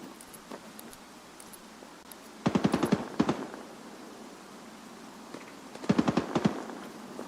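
Gunfire in a video game: two short bursts of rapid automatic shots, moderately loud against a quiet background, separated by a few seconds of near silence with faint scattered clicks.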